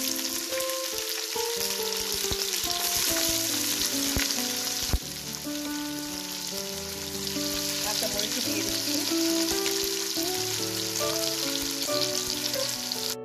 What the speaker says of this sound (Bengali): ভালো করে 5 মিনিটস মতো পেঁয়াজ, কাঁচামরিচ আর গরম মশলাগুলোকে আমি নেড়ে চেড়ে ভেজে নিয়েছি